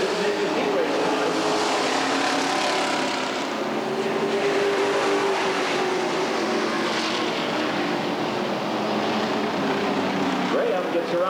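Race cars circle a dirt oval at Redwood Acres Raceway in a feature event, including a Trans Am, their engines a steady continuous roar in the distance beneath a track announcer's ongoing commentary.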